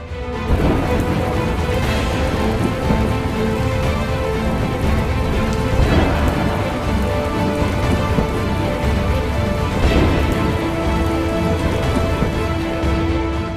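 Heavy monsoon rain pouring down in Mumbai, a dense, loud and unbroken downpour with no pauses throughout.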